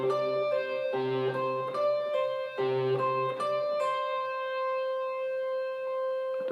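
Electric or acoustic guitar playing the repeating riff from a worship song, sustained ringing notes stepping up and down in a steady pattern and letting the last notes hang, alone without any talking.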